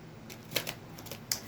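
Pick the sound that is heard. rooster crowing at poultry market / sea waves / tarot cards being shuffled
tarot cards being shuffled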